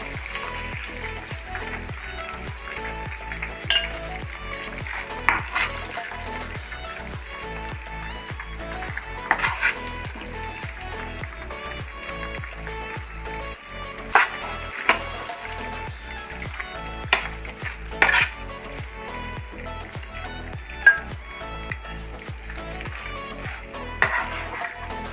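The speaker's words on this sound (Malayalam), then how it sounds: "നമ്മൾ ഫ്രൈ ആക്കാൻ വെച്ച ചിക്കൻ നന്നായിട്ട് ഫ്രൈ ആയി." Chicken frying in a pan gives a faint, low sizzle while a spatula stirs it, with repeated scrapes and scattered sharper clacks against the pan.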